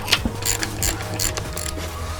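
A ratchet wrench clicks rapidly while loosening a 14mm bolt on the belt tensioner of an NA/NB Mazda Miata, a close, steady run of sharp pawl clicks with no talking.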